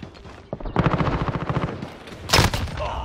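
Rapid bursts of automatic gunfire from the Call of Duty: Modern Warfare video game, a fast rattling volley followed by a sharper loud blast, fairly close.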